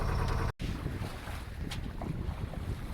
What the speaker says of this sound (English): That's sailing.